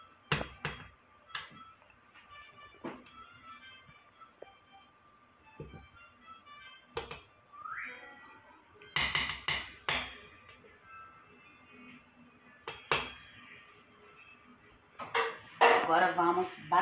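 A spoon stirs banana cake batter with cinnamon and butter in a bowl, giving irregular close clinks and scrapes against the bowl that grow busier toward the end, with brief speech in between.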